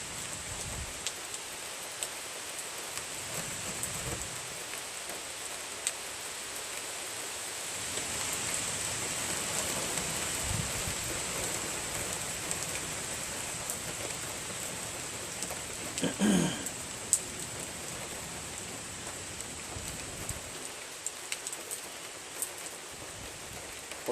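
Steady rain falls outdoors in a soft, even hiss that stays constant for the whole stretch, with a faint knock or two partway through and no voices.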